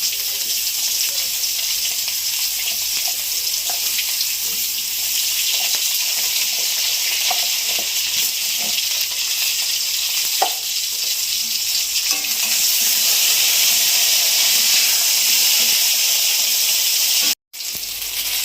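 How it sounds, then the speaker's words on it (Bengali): Eggplant slices frying in hot oil give a steady, loud sizzle that runs unbroken with a few faint clinks, then cuts out for a moment near the end before resuming. "বেগুনগুলো আমার ভাজা হয়ে গেছে"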